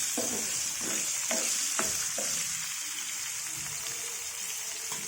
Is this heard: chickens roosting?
no